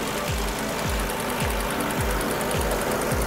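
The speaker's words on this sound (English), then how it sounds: "Why don't we go ahead and check out the engine?" A 2013 Volkswagen Jetta engine idles with the hood open, giving a steady close hum with a regular low pulse roughly every half second and no voices.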